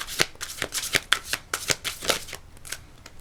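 A tarot deck being shuffled before an advice card is drawn: a quick run of crisp riffling and slapping card bursts, close and fairly loud, with no talking.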